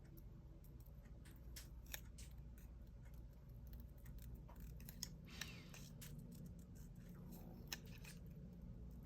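Scissors snip a craft bell in soft, quiet, irregular cuts with a few sharper clicks, over a low steady background hum.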